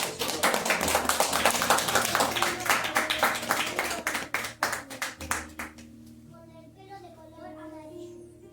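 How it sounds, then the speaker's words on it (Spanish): Church congregation applauding during a Sunday sermon, a dense burst of many hands clapping that fades after several seconds, with faint voices and a low background hum underneath. "denle un fuerte aplauso a esta palabra"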